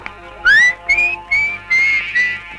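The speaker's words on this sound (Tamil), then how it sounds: "அவன் முன்னால போய் விசில் அடிக்க போறான்." A man in a film scene whistles at a woman: five loud, clear, rising whistled notes in quick succession, close and alone.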